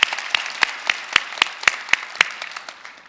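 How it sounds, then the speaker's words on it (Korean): A church congregation gives sparse, scattered applause, a dozen or so distinct claps spaced irregularly over a few seconds, moderately close and without voices. "큰 박수로 격려해 주시면 감사하겠습니다."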